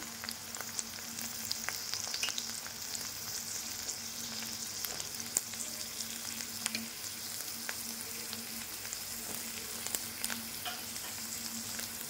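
Spinach curry ingredients, including eggplant, fry in hot oil over a low gas flame, giving a continuous close sizzle with occasional soft crackles and light stirring sounds, no talking.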